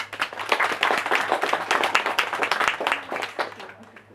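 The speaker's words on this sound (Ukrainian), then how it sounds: "Ваші оплески" Applause from an audience, steady dense clapping filling the space for a few seconds.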